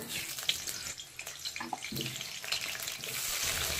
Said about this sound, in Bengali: এবার এর মধ্যে কিছুটা আলু ভেজে নেব।